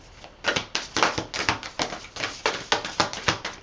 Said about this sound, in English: This is a really awkward deck to shuffle.